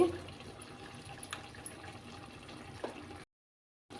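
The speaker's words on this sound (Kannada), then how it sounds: "ಅರ್ಧ ಲೋಟ ಆಗುವಷ್ಟು ನೀರು ಹಾಕ್ಕೊಳ್ತಿದ್ದೀನಿ" Water is poured into a sweet pumpkin curry as a faint, soft trickle and splash, with a few small clinks, before a brief silence.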